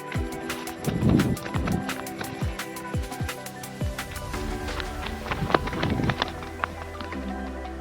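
A young buffalo calf gallops off after being untied, its hooves thudding in a quick uneven run on hard ground, close and fairly loud, with no one talking.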